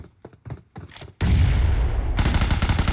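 Gunfire in the mobile battle game PUBG Mobile: a few scattered shots at first, then a loud, dense burst of rapid automatic fire that continues to the end.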